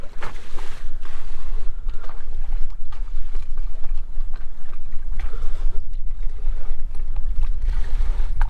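Sailboat under way toward Hadley Harbor among the Elizabeth Islands off Cape Cod, with a steady, loud rush of wind and water noise and occasional splashes and thumps throughout, no voices.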